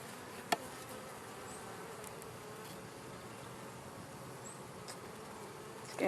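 Honeybees swarming in and around an open hive, a steady close buzzing hum that runs the whole time with a single brief knock near the start.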